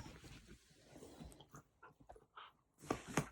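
A dog plays with and chews her toy in the morning, making soft gnawing, crunching and snuffling sounds with short bursts, then a few louder sharp squeaks or growls at the end, close and quiet.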